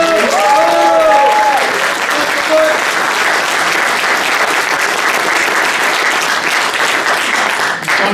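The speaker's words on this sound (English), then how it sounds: "Round of applause for." Audience applause for football figure John Still at an evening event, loud dense clapping that holds steady, with a brief spoken voice over the start.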